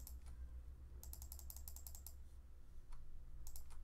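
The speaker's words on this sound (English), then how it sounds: "I'm just going to left click a bunch." A computer mouse left-clicked rapidly while using Photoshop, heard as quick runs of crisp, faint clicks in two bursts over a low background hum.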